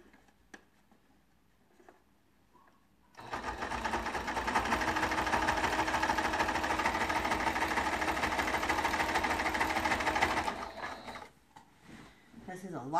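A sewing machine stitches the binding on a large quilt, a steady close whirring run of about seven seconds after a quiet start, then stopping, with faint handling noises around it.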